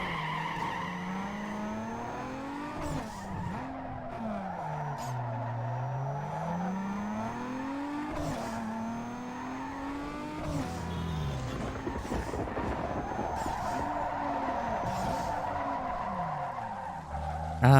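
In the video game Need for Speed Underground 2, a car spins out with long, wavering tire squeals over a constant engine drone. Skids rise and fall repeatedly for nearly eighteen seconds, loud and without talk.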